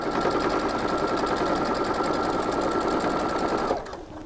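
A sewing machine stitches a weighted blanket filled with poly pellets, a loud, steady rapid mechanical whirring and ticking that runs continuously, then stops abruptly near the end.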